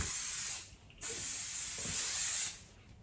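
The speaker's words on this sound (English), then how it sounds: "I've got the Tresemme Firm Hold hairspray." Tresemme Firm Hold hairspray sprays onto hair in two close, loud aerosol bursts, a brief one and then a longer steady hiss of about a second and a half, with no talking.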